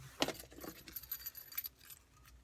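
Keys to a 2009 Nissan GT-R R35 jangle and clink in a few quick shakes, close by and fairly soft, with no talking.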